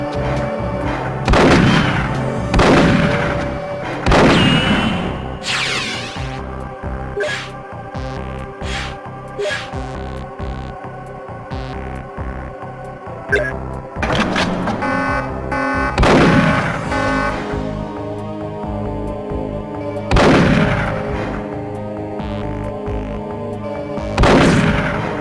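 Magnum pistol fired repeatedly on a firing range in Perfect Dark, loud sharp booming shots spaced a few seconds apart, some with ringing tails, heard alone over a faint hum.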